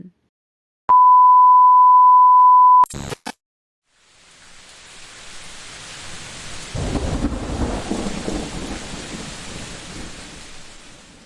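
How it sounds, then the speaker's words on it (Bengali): A steady electronic beep sounds first, then a low rumble of thunder swells beneath a constant hiss of rain that grows heavier. "সারা রাত ধরে চলা তীব্র ঘূর্ণিঝড়টা এখন গিয়ে থেমেছে যদিও সকাল থেকে ঝিরিঝিরি বৃষ্টি পড়ছে"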